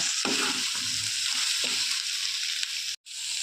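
Dried lote fish and Malabar spinach curry sautéing in a pan gives a steady, close sizzle with occasional spatula stirs and scrapes, broken by a brief silent gap near the end; no one talks.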